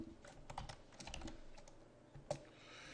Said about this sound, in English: We'll type in loft.